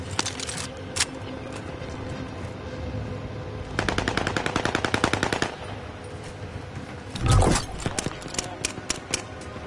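Automatic gunfire in Call of Duty: Warzone, with long rapid bursts of rattling shots and a few isolated cracks and thumps, loud and close, while game chatter and voices sit underneath.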